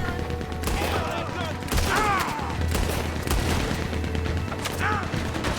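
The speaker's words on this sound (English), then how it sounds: "He's going for the Gatling! Look out, he's firing!" A Gatling gun rattles off loud, rapid bursts in a Red Dead Redemption 2 firefight, with shots cracking across a dense, noisy mix that also holds whistling, whooshing effects.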